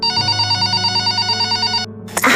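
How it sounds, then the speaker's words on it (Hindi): A telephone rings in an audio drama, a loud steady electronic trill repeating in quick pulses before it cuts off abruptly. "तभी उसका फोन रिंग होता है।"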